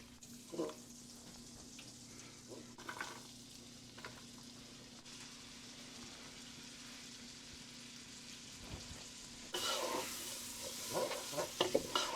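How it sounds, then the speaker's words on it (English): Vegetables sauté in butter and avocado oil with a soft, steady sizzle, broken by occasional stirring scrapes and clatters. The sound is faint and distant, growing noisier near the end. "I'm going to saute this for 5 or 6 minutes to give all these vegetables a chance to soften up a bit"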